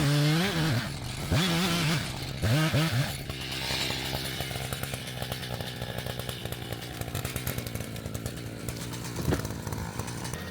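A chainsaw cuts in a woodlot, revving in several sharp bursts at the start before settling into a steady, buzzing drone at moderate distance.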